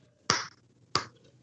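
Slow clapping from one person, three sharp separate claps spaced well apart in an otherwise quiet room.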